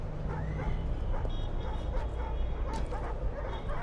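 A dog barks and yips with a few whimpering notes in Assassin's Creed 3 Remastered, heard under steady game ambience and background voices.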